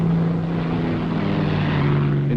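Hawker Sea Fury fighters with propeller engines run steadily before takeoff on a closely packed carrier deck, a loud, constant drone with a low hum throughout.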